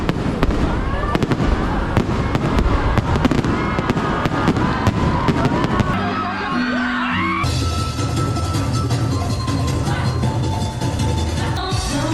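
Continuous loud fireworks display at SM City Cebu, Philippines, dense crackling and booming bursts, with a crowd cheering and yelling throughout.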